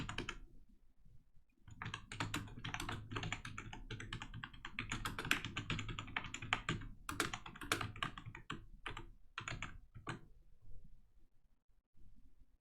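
Rapid clicking of typing on a computer keyboard, steady bursts of keystrokes close up with brief pauses, no talking.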